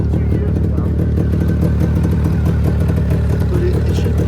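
Close, loud and steady running of a Mitsubishi Minicab kei truck's oil-injected, water-cooled engine, a rapid clattering idle with exhaust chatter, while people talk over it.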